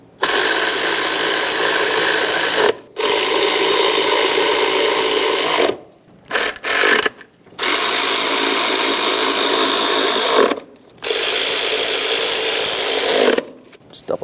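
Power tool whirring in long loud bursts as it snugs up bolts on a 2007-2013 Acura MDX engine during a timing belt and water pump job, stopping briefly between bolts, with no speech.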